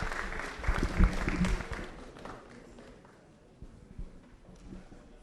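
Audience applause for a minister at a public lecture, a burst of clapping that peaks early then thins to scattered claps, with a brief swell near the end.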